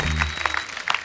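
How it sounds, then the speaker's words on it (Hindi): Studio audience at a TV comedy show breaks into brief applause, a short burst of clapping that tails off after about a second, with a voice underneath at the start. "इनके लिए जोरदार तालियां"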